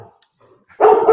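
A dog gives a single loud, close bark at the end of a short stretch of near silence broken by small faint sounds.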